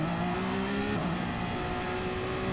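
Audi race car in a one-hour endurance race at a hilly circuit, engine droning steadily with a brief upward rev as the hybrid boost cuts in, then dropping back, loud and continuous throughout.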